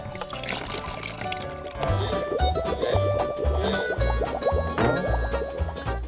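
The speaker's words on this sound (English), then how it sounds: "Whoa, where's that water going? Into the bucket." Children pouring water into a bucket outdoors on a hot summer day, a continuous gurgling, splashing fill with some sloshing and dripping, close and fairly loud.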